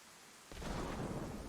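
Thunderstorm in a survival role-play video game: after a half-second of near silence, a broad rumbling roar of thunder and heavy rain swells in and holds steady, loud and close, with no talking.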